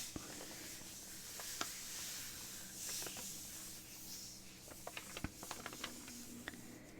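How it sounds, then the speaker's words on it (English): Soft, steady rain hiss with scattered light patter, faint and distant, with no one speaking. "you can probably hear the rain outside as well"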